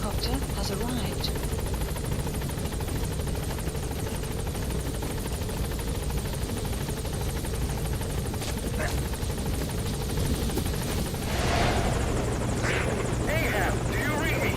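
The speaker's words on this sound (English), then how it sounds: "Support helicopter has arrived." The support helicopter arrives at a landing zone in Metal Gear Solid V: The Phantom Pain, its rotor thumping steadily and loudly throughout, joined by a brief surge of engine noise near the end, with voices talking over it.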